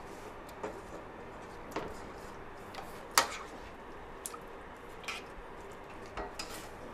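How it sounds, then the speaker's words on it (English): Sliced potatoes are stirred in a simmering pan, a utensil giving light, sparse taps and clicks against the metal every second or so, fairly quiet and without speech. "then we're going to stir it round to make sure it's all covered"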